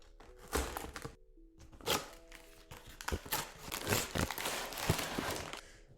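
LEGO Speed Champions Ferrari 812 Competizione set box torn open and its bags handled, with close cardboard cracks, crinkling plastic and thunks in irregular bursts.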